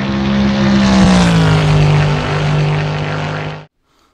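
Corvette C5.R racing car with a 7-liter engine, a loud, sustained roar with a strong low drone and a falling pitch as it passes close, cutting off abruptly into silence.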